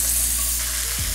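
Ends of a steak searing in a hot pan for steak au poivre, a loud, close, steady sizzle throughout the brief moment.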